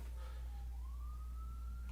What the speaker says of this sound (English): there's sirens going on.